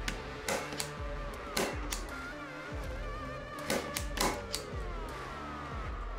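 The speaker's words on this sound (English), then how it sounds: "This blade should help cut the excess wire." A punch-down tool snaps down several times to cut excess CAT6 wire on a keystone jack. The sharp percussive clicks come in small groups over a steady background with musical tones.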